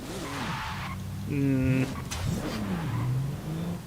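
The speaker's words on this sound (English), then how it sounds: "Sounds like a Porsche, which isn't a bad thing." Sports car engine from the Forza Horizon 5 racing game revving and shifting through gears with a Porsche-like tone, heard over several seconds at moderate volume with tire noise, a voice talking over it.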